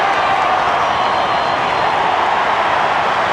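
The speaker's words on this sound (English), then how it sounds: "Listen to the crowd." Football stadium crowd at a 1998 AFL match between West Coast and the Western Bulldogs roaring in a dense, continuous wall of noise, loud and steady throughout without breaks.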